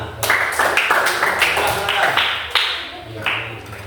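A short round of group clapping in a classroom, quick irregular claps from several people, with voices talking over it.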